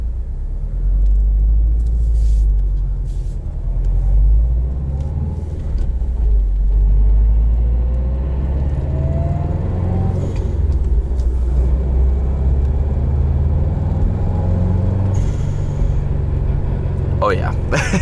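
A 2016 Subaru WRX STI with a manual shifter and a blow-off valve drives along, its engine a steady low rumble with some revving, heard from inside the cabin while a person talks.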